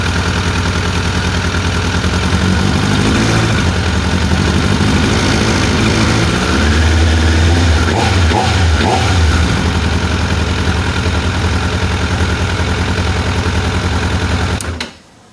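A motorcycle engine runs after being cranked, with a loud, close, steady idle, a short rev partway through, then a sudden cut to quiet at the end.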